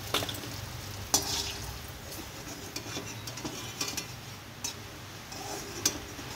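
Lentil fritters (bora) frying in oil in a village kitchen, a soft continuous sizzle broken by occasional sharp clicks and scrapes of a utensil turning them, fairly quiet and with no talk.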